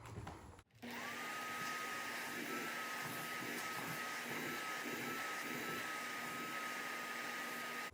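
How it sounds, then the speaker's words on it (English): A Bissell Little Green Machine vacuums loose debris from a couch, switching on and settling into a loud, steady, close whine with a constant high tone that runs alone to the end. "we'll vacuum out the area, try to get up any loose parts"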